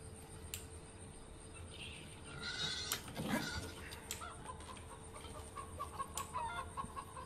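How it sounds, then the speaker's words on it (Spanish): Chickens cluck and squawk in short bursts in the video game Far Cry 5: Hours of Darkness, against a steady low background hum, with no talking. "Qué putas gallinas."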